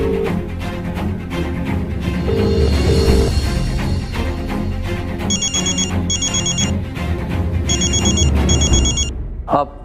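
A telephone ringing during a call, loud repeated bell-like rings in bursts over music and background sound, with a faint voice at moments.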